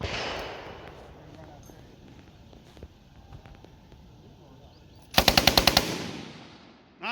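A machine gun fires on a shooting competition stage aimed at steel poppers 200 yards out, with a quick burst of about six sharp, loud rounds near the end and faint distant shots and clicks beforehand.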